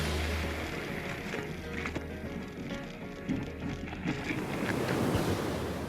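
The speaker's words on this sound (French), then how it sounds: "L'océan est trop agité." Rough ocean surf rolls and breaks along a Siberian coast, a steady roar of churning water with gusts of wind buffeting the microphone, continuous and fairly close.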